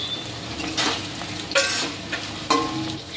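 Chopped tomato and fried peanuts stirred into a sizzling pan for a tangy pumpkin curry, steady frying hiss with a few distinct scraping stirs of a utensil against the pan.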